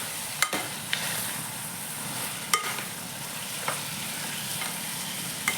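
Quarter kilo of minced mutton keema sizzles steadily in a hot pan, a continuous frying hiss broken by a few sharp scrapes and knocks of a spoon stirring it, close and alone with no voices.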